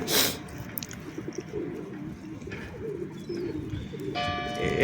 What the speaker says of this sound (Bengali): পরে এখন দেখা দেখি অনেক কবুতর চলে আসছে